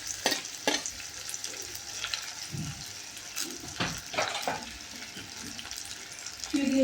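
Onions frying in a pan with cloves for Maharashtrian dal kanda, giving a steady close sizzle with stirring clatter and scraping through the clip.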